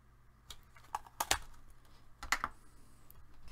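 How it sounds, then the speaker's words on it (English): A handheld circle punch cuts a thumb hole in paper, giving a few sharp, quiet clicks and snaps spaced across a few seconds in an otherwise hushed room. "I'm just going to use a circle punch, and I'm going to eyeball and find the center, and I'm going to cut out a thumb hole"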